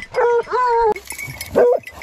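Hunting dogs yelp and bark in short, excited bursts after a wild boar hunt in the countryside, with someone speaking close by between the calls.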